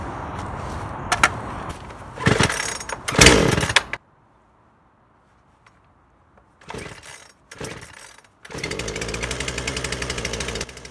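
A Poulan Pro PR5020 chainsaw is pulled and its engine fires and revs in loud bursts, falls silent for a few seconds, then sputters back and settles into a steady close warm-up running with the choke half out.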